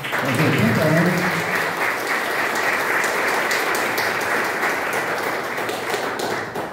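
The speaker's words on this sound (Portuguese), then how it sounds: "pedindo uma salva de palmas" Loud, dense applause from a crowd at a project launch in Cabo Frio, honoring an 80-year-old baker, with voices briefly audible at the start before sustained clapping fills the room.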